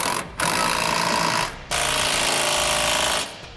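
Power tool driving bolts with a 3/4 inch socket to secure a fifth wheel hitch side plate to cross members on a 2008 Ford F-450, loud buzzing bursts separated by brief pauses.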